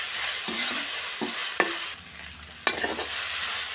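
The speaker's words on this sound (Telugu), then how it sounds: "పచ్చి వాసన పోయే వరకు బాగా వేపుకోవాలండి." Onions frying with ginger-garlic paste in a pan give a steady soft sizzle, broken by several sharp scraping knocks of a spoon stirring, with no talking.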